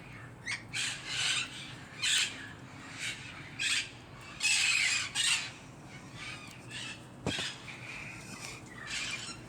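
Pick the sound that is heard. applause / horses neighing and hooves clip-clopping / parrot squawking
parrot squawking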